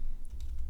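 A few soft, quick clicks from a computer keyboard key being pressed are heard over a low background hum.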